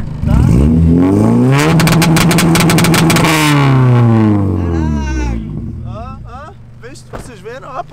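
A cold car engine revs hard and close, its pitch climbing and falling in repeated loud sweeps. It then drops back to a quieter, uneven idle with a few short blips.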